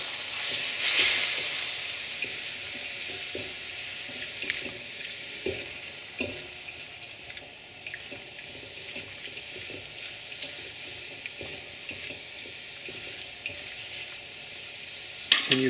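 Sauce poured into a hot pan of velveted chicken and asparagus sizzles with a soft steady hiss, with scattered light clicks and stirring taps as it cooks, fairly quiet and without talk.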